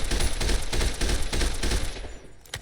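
AN-94 rifle firing in hyperburst mode in a video game, a dense run of rapid close gunshots lasting about two seconds before stopping abruptly, loud and without speech.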